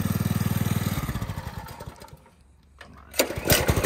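A Ford F-150 pickup's engine throbs in loud, close, rhythmic pulses during a burnout, fades almost to silence, then surges back with sharp revving bursts.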